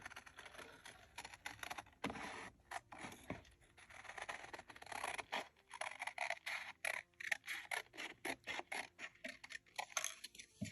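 Scissors fussy-cut across a greeting card in a run of quick, crisp snips and papery scrapes, close and fairly quiet, with irregular pauses between cuts.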